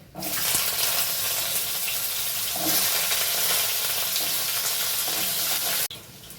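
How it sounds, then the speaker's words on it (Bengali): Loud, steady sizzling as diced potato and whole cumin seeds hit hot oil in a pan, a dense hiss that holds for several seconds before dropping off abruptly near the end. "এখন দিচ্ছি গোটা জিরে এবারে আলুটা ছেড়ে দিচ্ছি"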